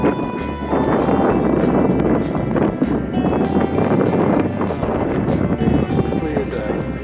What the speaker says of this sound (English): Quite windy and chilly up at the summit.